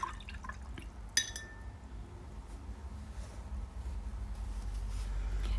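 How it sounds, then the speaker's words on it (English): A paintbrush is rinsed in a cup of water while painting a landscape, giving soft liquid swishing and a faint clink of glass against a low room hum, with no talk. "I'm going to wash my brush."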